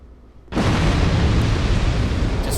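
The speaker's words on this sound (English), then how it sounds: "never turn around to look at the explosion until it's done" A barrel explosion in Dark Souls 2 erupts with a sudden loud boom, then a dense, roaring blast that holds steady for about two seconds after a brief quiet lead-in.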